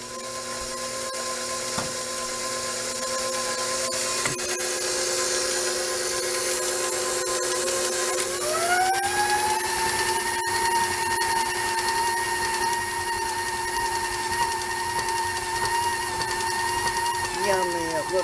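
An electric mixer with beaters churns cookie dough, a steady motor whine that shifts upward in pitch partway through and holds, with talking alongside.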